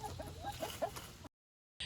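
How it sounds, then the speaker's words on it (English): Backyard chickens from a small flock kept in a coop cluck in short, soft bursts close by, several calls over a second before the sound cuts out briefly. "So we got these chickens."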